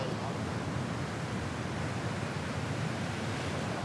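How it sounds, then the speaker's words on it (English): Heavy surf at the Banzai Pipeline on Oahu's shore roars as a steady, dense wash of broadband noise, continuous and fairly distant, with a windy rumble and no distinct crash. "That's a heavy wave."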